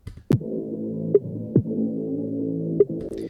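A music track thinned by EQ down to just its low-mid range, leaving a steady hollow tonal drone with a few sharp percussive hits cutting through at intervals.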